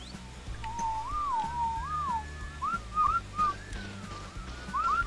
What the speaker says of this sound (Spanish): He chiflado sin querer, este bug.